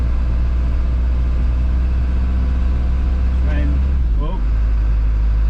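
An Isuzu NPR truck climbs a hill during a snowstorm, its engine a close, steady low drone that holds throughout while a voice briefly exclaims near the end.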